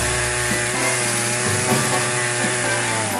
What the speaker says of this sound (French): L'habile bûcheron dut terminer le travail à la tronçonneuse.